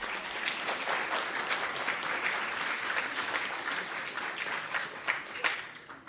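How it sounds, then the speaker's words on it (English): Applause from an audience of campaign workers at an Inauguration Day 2026 event, a dense, steady wash of many hands clapping that holds at an even level throughout without pause. "why don't you give yourselves a round of applause?"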